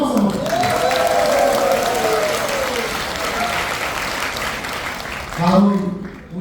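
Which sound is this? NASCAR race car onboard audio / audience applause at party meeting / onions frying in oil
audience applause at party meeting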